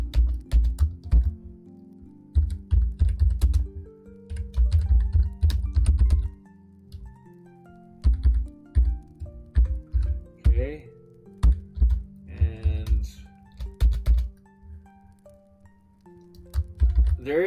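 Typing on a computer keyboard in quick bursts of close, crisp key clicks with brief pauses, while a person talks over it.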